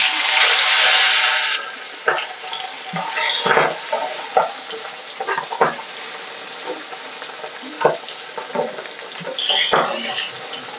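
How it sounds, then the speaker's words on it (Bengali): Pabda fish dropped into hot oil, a loud burst of sizzling at first, then uneven crackling with spatters and utensil clatter, close up. "তেলটা খুব সুন্দর গরম হয়ে গেছে এবার আমি মাছগুলোকে দিয়ে দেবো"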